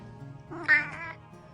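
A rescue cat lets out a single drawn-out, rising meow that swells loudly and then trails off, close to the microphone, with no talking.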